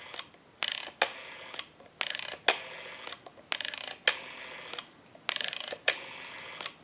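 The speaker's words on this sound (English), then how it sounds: "We have a nice smooth return on our rotary dial now." The rotary dial of an Automatic Electric 1A monophone spins back after each pull, giving repeated bursts of fast, smooth clicking separated by brief pauses. The sound is close, clear and fairly quiet, with no talking.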